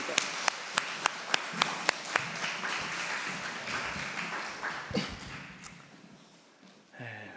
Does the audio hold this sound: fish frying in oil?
no